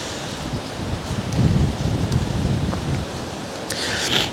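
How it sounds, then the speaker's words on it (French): Very strong outdoor wind buffeting a microphone, a steady roaring rush with surging gusts that swell and fade, loud and close with no talk over it. "il y a du vent de fou"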